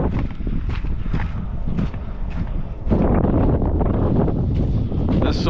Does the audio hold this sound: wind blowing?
yes